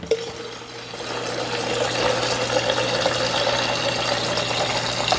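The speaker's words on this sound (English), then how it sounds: "it's just me getting water from the fridge" Water streams steadily from a refrigerator dispenser into a water bottle, a continuous close pour with a faint motor hum underneath.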